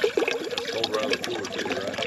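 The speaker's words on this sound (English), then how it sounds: "So I'm going to put exactly one bottle of water in here." Cold bottled water poured into a coffee pot, a steady close trickle and splash that fills the container for about two seconds, with no voices.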